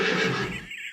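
A horse gives a loud, close whinny, a single shrill neigh that fades out over under a second, with no talk over it.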